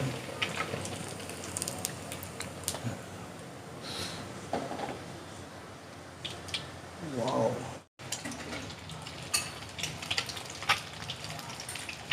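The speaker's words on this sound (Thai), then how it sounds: "ทอดไข่เสร็จแล้ว" Eggs fry in a pan for a Thai fried-egg spicy salad, giving a steady crackling sizzle with a few louder spits and a sharp cut midway, while voices are faintly present.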